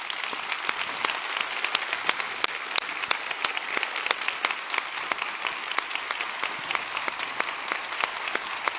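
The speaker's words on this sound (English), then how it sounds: "I'm going to ask now our team here to clap the hands very strong." Team members clap their hands together in a steady, sustained round of applause, many sharp individual claps ringing out clearly with no talking over them.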